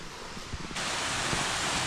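The 70 m high Suha waterfall in Bohinj roars as a broad, steady rush of falling water, growing suddenly louder and fuller partway through and holding close and loud with no voices.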